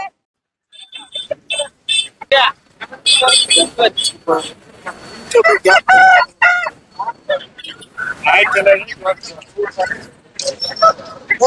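Roosters and hens at a busy outdoor chicken market before the Thai Pongal festival in Erode district, Tamil Nadu. Close crowing and clucking mixes with loud, near-constant voices of traders and buyers.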